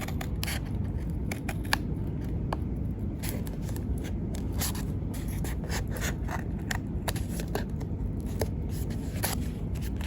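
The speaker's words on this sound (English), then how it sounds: "I'm gonna cut out South Dakota. Cut out Nebraska." Scissors cut out paper map pieces of US states, producing continuous close snipping and paper rustle with many small crisp cuts in irregular rhythm over steady background noise.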